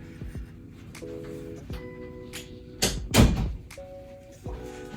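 A door closes with a solid thud in the middle, preceded by soft shuffling and light handling noises in a quiet room.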